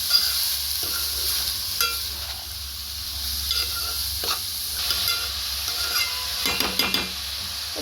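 An egg curry mixture with netthallu (dried anchovies) stirred in a pan, soft scraping and spoon clinks over a continuous hiss of sizzling, with a flurry of quicker scrapes near the end.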